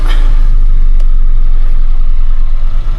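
A loud, close engine rumbles steadily at a constant low pitch, a cheap used car idling at a car auction, with no talking and no change in speed.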